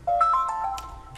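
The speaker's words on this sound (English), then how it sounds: "my phone beeping" Phone beeping in a short melodic run of bright electronic tones, close and clear, over a quiet background with no talk.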